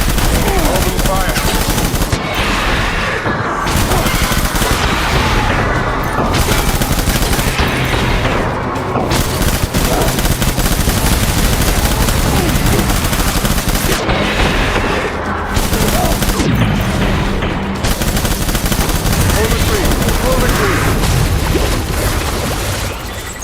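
Heavy gunfire in the game Death Stranding: Director's Cut, continuous loud machine-gun bursts and booming shots hammering without pause, with voices shouting under the din.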